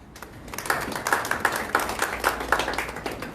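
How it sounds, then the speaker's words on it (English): Scattered claps from a luncheon audience at the Sarova Panafric Hotel quickly build into a steady round of applause that sounds close and moderately loud. "Another round of applause for"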